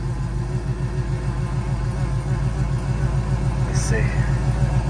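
Oldsmobile engine idling high with a steady mid-pitched rumble that holds throughout, close by, while someone speaks briefly over it.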